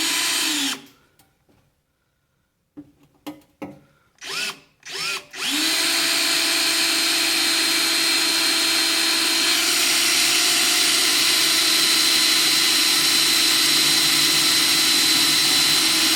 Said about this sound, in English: Already got one hole drilled.